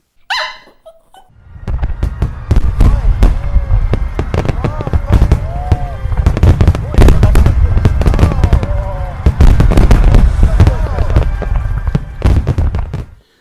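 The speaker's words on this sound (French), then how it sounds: "Passons maintenant aux choses sérieuses, aux feux d'artifice au bouquet final" Dense crackling bursts of a fireworks finale pop and bang continuously for over ten seconds, loud and close, with a dog barking through the din.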